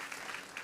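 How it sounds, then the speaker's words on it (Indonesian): Applause from a church congregation during an onsite Sunday service, a steady wash of clapping hands filling the short moment with no voices over it. "Tepuk tangan dong buat Bapak ini."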